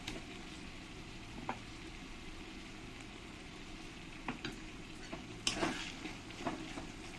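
Ginger garlic paste frying with onion and tomato in a pan for mutton kosha, a quiet steady sizzle broken by occasional clinks and scrapes of a spatula against the metal.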